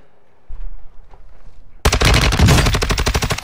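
Gunfire in a shooter video game: after a moment of quieter background sound, a sudden loud burst of rapid automatic fire erupts and keeps rattling in fast repeated shots until the end.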